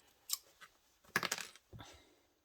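Scissors snipping fabric seam allowance on a satchel: a few quiet, sharp clipped cuts in short bursts, close and alone.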